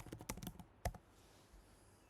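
Quick burst of keystrokes on a computer keyboard, close and dry, followed by a pause, one firm key press, and then near silence.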